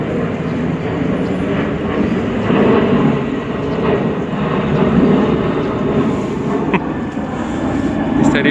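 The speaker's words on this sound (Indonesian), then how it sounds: "Kedengeran nggak suara pesawat lewat?" An airplane passes overhead as a broad, steady rumbling roar that rises and falls gently throughout, with faint background noise and no clear talk.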